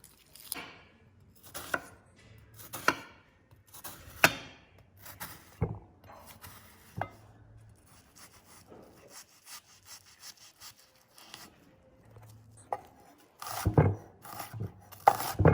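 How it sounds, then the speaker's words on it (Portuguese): Knife chopping onion finely on a cutting board, heard as a run of sharp, close, irregular blade strikes and scraping rubs with short gaps, sometimes in quick bursts, with no talking. "Corte moagem da cebola, bem miudinha."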